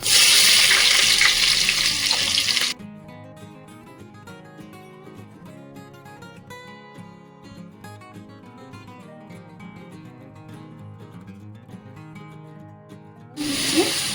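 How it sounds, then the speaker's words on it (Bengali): Bay leaves and onion dropped into hot oil in a kadai for chicken biryani, giving a loud, steady sizzle at the start and again at the end, with music playing through the long middle stretch. "প্রথমে আমি কড়াতে দিলাম তেল, এবার আমি দিচ্ছি তেজপাতা, পেঁয়াজ"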